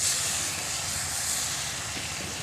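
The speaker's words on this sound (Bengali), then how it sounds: "তেঁতুল জলটা তরকারির মধ্যে ঢেলে দিলাম" Tamarind water poured into a simmering Bengali-style prawn curry gives a steady, even hiss that runs unbroken for the whole moment, with no voices.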